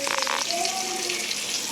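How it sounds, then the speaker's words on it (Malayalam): Fish frying in a pan in a home kitchen gives off a steady, close sizzling hiss that runs through the whole moment, with faint tonal sounds underneath. "അമ്മ മീൻ വറുത്തുകൊണ്ടിരിക്കുകയാണ്"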